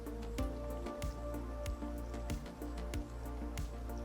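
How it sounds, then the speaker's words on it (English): Rain falls steadily in the off-road truck game SnowRunner's Taymyr region, a constant patter of drops with recurring splashy ticks over a low engine rumble, with no talk. "And it's raining."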